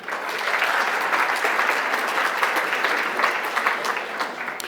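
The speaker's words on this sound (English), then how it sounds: "another round of applause for our president" Audience applause for the association president fills a hall at the opening session of the LIASA national conference, a loud, continuous wash of clapping that holds steady for nearly five seconds.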